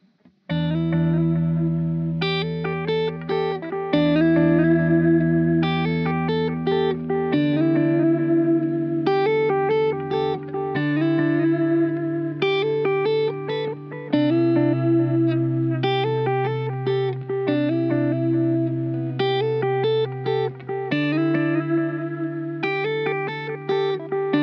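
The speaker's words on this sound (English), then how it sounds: "Here are some examples how the Copy Machine sounds." A Copy Machine analog delay guitar effects pedal demonstrated on a guitar, a looping sequence of picked notes over sustained chords, each note trailing into soft repeating echoes, continuous and fairly loud with no voices.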